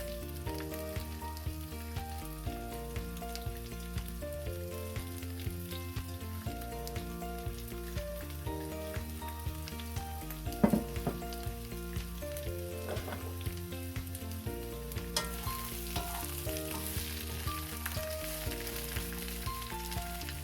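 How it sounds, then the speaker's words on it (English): Peppers and onions sizzle steadily in a hot pan, a constant crackling hiss with a faint clank partway through and no talking. "it's sizzling a little bit. I'm gonna dump my peppers and onions."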